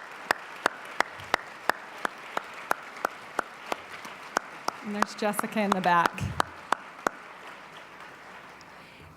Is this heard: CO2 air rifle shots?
no